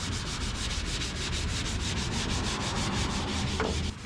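Steady, close scuff sanding of a car tailgate before priming, a fast back-and-forth rubbing rasp repeated in even strokes with no talk, ending abruptly.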